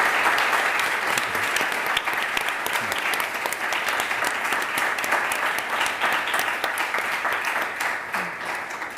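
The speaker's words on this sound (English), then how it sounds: "I think our speakers deserve the round of applause." Steady applause from an audience at the close of a women's leadership panel on rethinking security, dense clapping sustained loud and continuous throughout, with a few voices mixed in.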